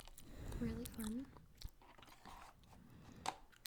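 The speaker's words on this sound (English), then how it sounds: "I'm going to stare at you for a few minutes, chewing my gum loud." Gum chewed loudly with wet, crunchy smacks and clicks, heard under and between a person's talking, close to the listener and moderately faint overall.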